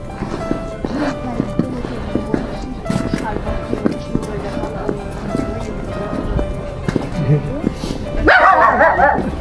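A dog barks repeatedly nearby on a street in Dordrecht, Netherlands, with sharp woofs and yips in an uneven rhythm, while people talk over it and a louder burst of noise comes at the end.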